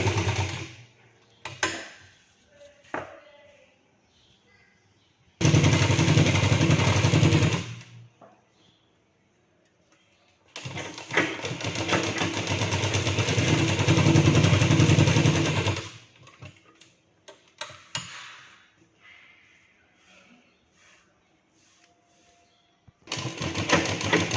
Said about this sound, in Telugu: చుట్టూ స్టిచ్ వేసుకోవాలి.